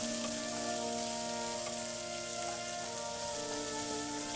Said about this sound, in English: Fry until the onion is golden brown.